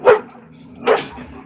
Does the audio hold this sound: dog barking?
yes